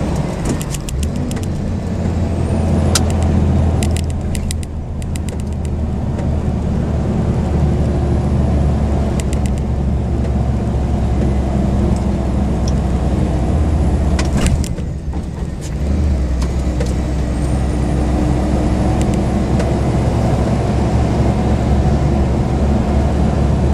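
A vehicle engine labours up steep Pensford Hill after a missed gear, a loud, sustained low drone that holds steady and close for the whole stretch, with a short dip in the middle before it resumes.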